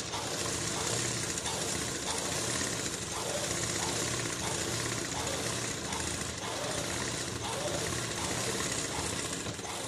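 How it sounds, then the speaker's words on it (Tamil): A sewing machine stitches fabric for a hair band with a continuous rapid mechanical chatter at close range, with faint talk mixed in. "ஓரமாக தையல் போடுங்க."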